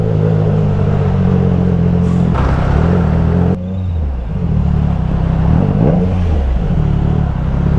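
A Triumph Trident 660 motorcycle with a Zard full-system exhaust rides through city traffic, its engine loud and close with steady throttle, a brief roll-off, and rising revs under continuous road noise.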